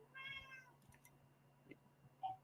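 A cat meows indoors, with one drawn-out meow at the start and a shorter, fainter call near the end, both clear over a quiet background.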